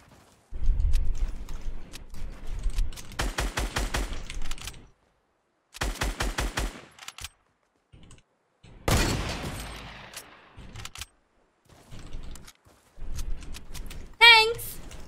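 Gunfire in the Fortnite video game: several loud, rapid bursts of automatic shots a few seconds apart, mixed with other in-game clatter and effects.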